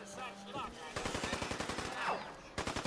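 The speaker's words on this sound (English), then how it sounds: "Somebody's shooting at me." Rapid gunfire from the video game Fallout 4 during a fight near a super mutant encampment, a fast burst of sharp shots repeating through most of the moment, loud and close, with other game sounds mixed in.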